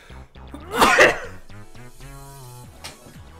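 A single sharp, loud sneeze bursts out close to the microphone amid casual chatter, followed by quieter talking.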